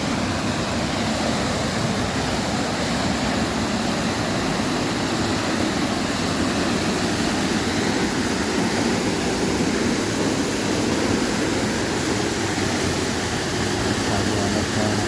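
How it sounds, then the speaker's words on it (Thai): Pha Mueang waterfall pours in a dense, unbroken hiss and roar of falling water, loud and constant throughout with no pauses. "นี่คือน้ำตกผาเมืองนะครับบรรยากาศดีมาก"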